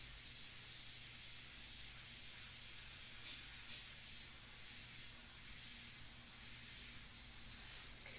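An airbrush spraying India ink while painting a portrait gives a continuous, steady, close hiss that holds at an even level throughout.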